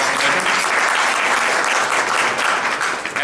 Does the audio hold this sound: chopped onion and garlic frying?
no